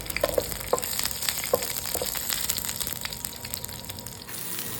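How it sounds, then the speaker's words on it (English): A sprig of curry leaves, deseeded red chillies and garlic pods sauté in hot oil for okra fry, giving a dense, loud crackling sizzle with scattered pops and a faint watery rush toward the end. "One sprig of curry leaves, 2 deseeded red chillies and 5 garlic pods. Sauté this for a few seconds."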